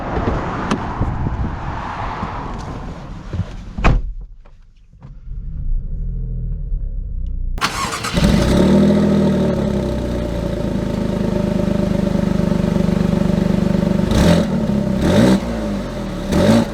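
An Alfa Romeo Stelvio Quadrifoglio fires up nearby, with a sharp start and a brief lull, then a loud, sustained engine rumble that swells as it revs, heard alone without voices.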